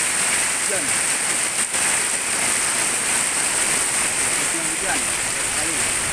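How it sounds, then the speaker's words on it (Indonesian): Heavy rain pours steadily in Cikarang, a dense, continuous hiss close by, with faint voices under it. "Hujan sekali"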